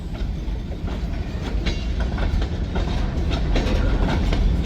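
A freight train rolls slowly across a derailment site, with a continuous low rumble and evenly spaced wheel clicks passing close by.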